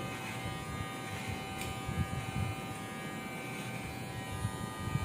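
A Nova NG 1153 electric hair trimmer, new and snagging on longer hair, runs with a steady close buzzing hum and a constant motor whine, with faint rustling as it moves through hair and no talking.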